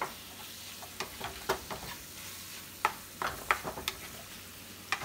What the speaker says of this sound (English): Mix this up. Cook that flour down.